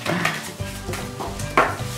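Stirring in a cooking video game, with clinks of utensils against a pot over a steady low background, a couple of sharper scraping accents standing out near the start and toward the end.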